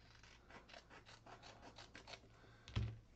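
Scissors cutting through a game card being trimmed down, with a run of soft rhythmic snips and rasps, then one louder, sharper cut near the end.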